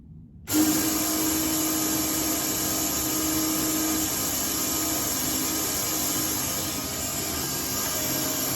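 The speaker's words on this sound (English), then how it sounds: "I guess all I need to do now is go turn the fuel pump on." Car fuel pump running during a fuel flow check, a steady, close electric whine and hum that starts abruptly and continues without a break, with no talking.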